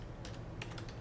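Short bursts of keystrokes as a radio profile name is typed in setup software for a FrSky X-Lite S transmitter, a few quick clicks then a denser run, close and fairly quiet over a steady low hum.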